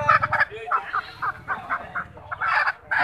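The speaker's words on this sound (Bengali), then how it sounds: "এই যেই দুইটা মোরগ আপনারা এখন দেখতে পাচ্ছেন" Roosters at a chicken market in Bangladesh, with close, loud clucking and squawking calls in quick irregular bursts, and voices in the background.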